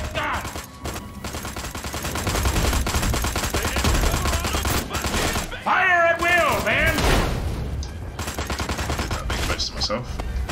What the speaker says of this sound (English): Get out that big gun! Fire it with